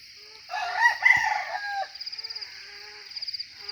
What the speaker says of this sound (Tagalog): Ayan mga kanter, tumitilawak na yung labuyong alpas.